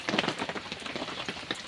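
Steady rain patters on a surface outdoors, a dense, even hiss broken by scattered sharper drops, fairly close and continuous with no speech over it.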